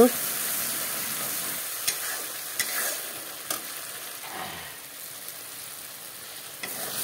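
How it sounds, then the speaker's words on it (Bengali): Spice paste being stir-fried in a pan for a home-cooked curry, giving a steady low sizzle broken by several light scraping and tapping strokes of the spoon, with no voices over it. "মশলাটাকে ভালো করে কষিয়ে নেব"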